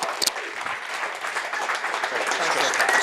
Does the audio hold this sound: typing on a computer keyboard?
no